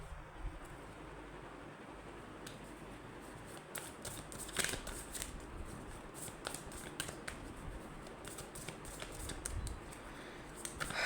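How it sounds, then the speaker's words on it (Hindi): Tarot cards are shuffled close up in quick riffling bursts of papery flicks and soft slaps that repeat throughout, fairly quiet, with no talking. "मैं एक बार और शफल कर लेती हूँ"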